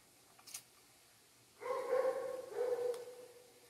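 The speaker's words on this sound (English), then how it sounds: "Y'all hear somebody dog?" A neighbour's dog barks somewhere off in the distance, two short bursts of barking that sound muffled and faint against the quiet background.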